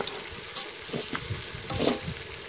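Rice stirred and toasted in a hot pan, a close sizzle broken by scraping strokes of a utensil, with a louder stirring pass near the end and no voices.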